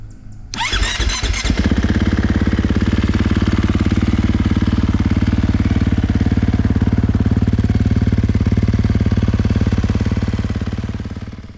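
A 2023 KTM 450 SX-F motocross bike is kicked over by the electric starter with a short crank, then fires and runs at a loud, steady, rapid-pulsed idle while warming up for an oil change, fading slightly at the end.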